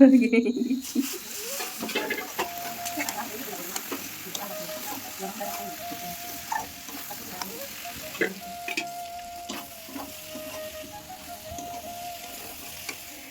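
Mutton frying and being stirred in a pot on a clay stove, a steady sizzle with scraping stir strokes and light clinks throughout, fairly close.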